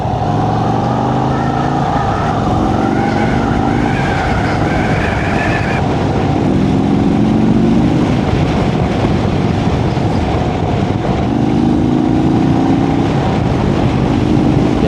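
A V-twin motorcycle engine, Harley or Indian, drones loud and steady at low throttle while riding, with wind rush and small rises in pitch as it pulls.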